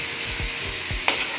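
Masala and coriander powder being stirred in a pan with a spoon, soft scraping strokes over a low sizzle, about three sweeps, then a brief brighter scrape near the end.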